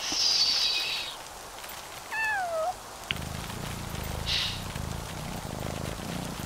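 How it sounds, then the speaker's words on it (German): Cats in the video game Yonder: The Cloud Catcher Chronicles give a short rising meow, then a steady low purr over soft ambient game sound with faint chimes. "Das ist unglaublich, wie sehr die schnurren."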